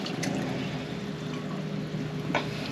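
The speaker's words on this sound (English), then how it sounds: "now we're going to take our milk, 2 cups of milk. We're going to pour down in there" Two cups of milk poured into a bowl for banana pudding, a soft, continuous liquid pour close by, steady and fairly quiet, with a light splash near the end and no talk.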